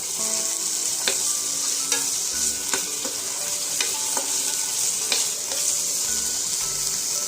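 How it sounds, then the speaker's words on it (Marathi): Small pieces of paneer frying in hot oil for a vegetable pulao, a steady bright sizzle running throughout with occasional clicks and scrapes of stirring, close and fairly loud, no voices. "आता आपण जे पनीरचे बारीक तुकडे करून घेतले होते ते यामध्ये टाकून घेऊ आणि छान असं लालसर परतून घेऊ"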